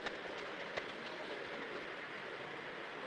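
Model trains, including a Pennsylvania Flyer, running on a modular club layout, a faint continuous rolling rumble with soft clicks of wheels over track joints.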